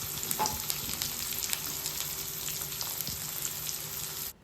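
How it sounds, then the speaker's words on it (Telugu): Sliced onions frying in a pan for poha upma: an even, close hiss of sizzling oil with faint crackles and a few light stirring clicks, ending abruptly, no voices. "ఉల్లిగడ్డలు కాస్త కలర్ చేంజ్ అయ్యే వరకు ఫ్రై చేసుకోవాలి"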